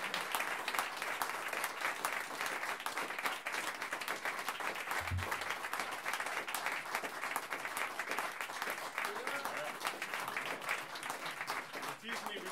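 Sustained applause from a concert audience for a jazz trio musician at the Hofspielhaus, a dense, steady wash of many hands clapping that holds for over twelve seconds before easing slightly at the end.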